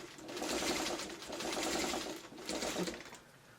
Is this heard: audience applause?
no